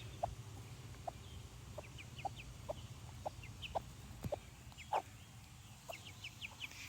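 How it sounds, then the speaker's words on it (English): Soft, regular clucking from a broody hen beside her chicks repeats roughly every half second close by, with faint chirps above it and a low hum underneath. "Those are little broody sounds that she's making."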